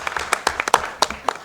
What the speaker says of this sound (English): So a round of applause to them for doing a fantastic job.